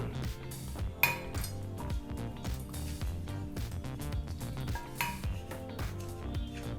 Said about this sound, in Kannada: ಹುರಿದಂಥ ಈ ಪದಾರ್ಥನ ಒಂದು ಮಿಕ್ಸಿ ಜರ್ಗೆ ಹಾಕ್ಕೊಳ್ಳೋಣ